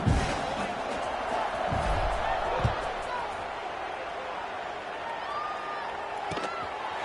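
A football stadium crowd at a Broncos–Bears game roars steadily after a touchdown drive, a dense, distant wash of cheering with a few thumps, under a commentator's voice.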